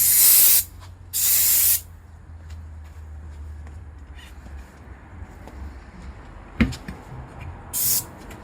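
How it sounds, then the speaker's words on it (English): Brake cleaner aerosol sprayed onto a tyre bead while mounting a tyre: two loud, close hissing bursts, each under a second, then quieter handling noises, a sharp knock and a final short spray burst. "Oh, for your reference, this is just brake cleaning."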